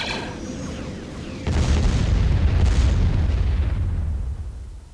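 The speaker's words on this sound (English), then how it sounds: "Commencing bombing there." A bombing run in the Star Wars game Empire at War sets off a heavy, deep rumbling blast that swells abruptly and rolls on loudly before slowly fading.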